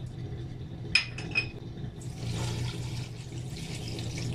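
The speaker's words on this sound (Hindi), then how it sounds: "2 ग्लास पानी ऐड किया" A couple of metallic clinks, then a steady rush of two glasses of water pouring into a pressure cooker of spinach and mutton curry, moderately loud and close, with no voices.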